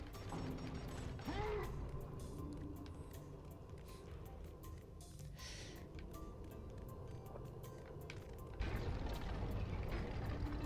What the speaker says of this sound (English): Now we open up our second series of doors.